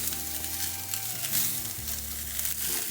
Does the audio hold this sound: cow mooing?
no